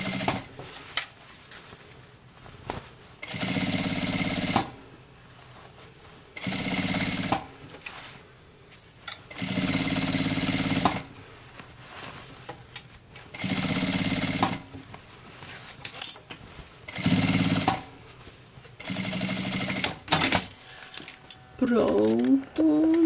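A sewing machine stitching the lining of a bag runs in repeated bursts of a few seconds each, loud and close, with quiet pauses between runs and someone talking during the pauses.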